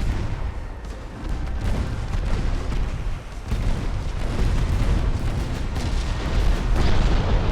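Deep booming battleship gun salvos in a naval warfare video game, heavy rolling blasts layered with rumbling explosions that build in loudness across the stretch, with no talk over them.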